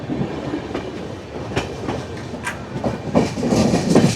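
Padatik Express pulls out of New Jalpaiguri station, its wheels clattering rhythmically over rail joints, steady and close, with the clickety-clack growing busier as it gathers speed.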